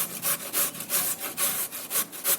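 Raw radish is rubbed against a kitchen grater in about eight quick, even back-and-forth strokes, each a close, rasping scrape with no talk.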